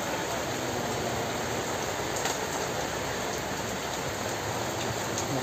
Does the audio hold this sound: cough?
no